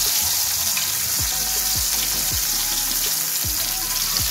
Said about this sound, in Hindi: ये सारों को हम इस तरह से फ्राई करेंगे